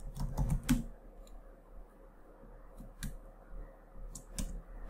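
A computer keyboard is typed on in short, quiet clusters of clicking keystrokes with gaps between them, close and soft, as a kubectl command is entered.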